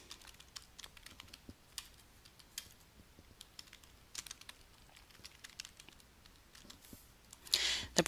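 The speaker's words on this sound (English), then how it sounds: "I'm going to place my cursor right there on the edge, click and type" Quiet typing on a computer keyboard while laying out text for a poster design, a soft, uneven patter of key clicks in short bursts, close and faint, with a brief rustle near the end and no voices.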